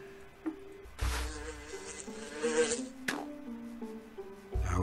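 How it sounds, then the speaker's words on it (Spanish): Buzzing fly in The Office Quest, a mobile point-and-click game, droning in loud bursts over light game music, with a sharp swell in the middle and fainter passes around it. "¿Y qué hago con la mosca?"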